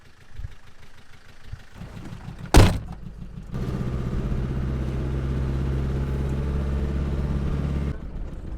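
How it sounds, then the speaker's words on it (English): Land Rover driving up a closed road, a low steady engine rumble and road noise that swells after a sharp thump, continuing evenly until it drops away near the end. "So we're driving along this closed road"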